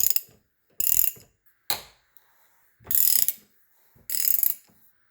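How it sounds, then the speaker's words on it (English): Torx screws being loosened from the throttle body of a BMW 750iL E32 with a ratchet, in five short bursts of rapid clicking separated by silent gaps, heard close up. "I'm going to take off these two Torx, which takes off this block"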